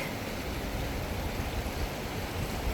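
Steady broadband rush of Jenny Creek's flowing water, continuous and even throughout with no voices, close and moderately loud.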